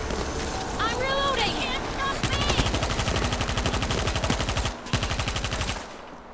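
Rapid automatic gunfire blasting at zombies in the shooter game World War Z, a loud steady stream of shots with a voice talking over the opening.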